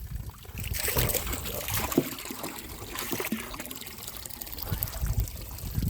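Water flowing and trickling across farm ground, a steady broadband rush with small splashes and gurgles throughout, fairly close and continuous with no talk.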